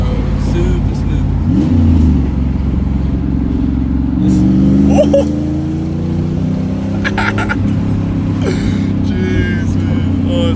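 An F-body Camaro drives with its engine droning loud and steady throughout, rising and falling in pitch as it pulls, while people talk excitedly over the rumble.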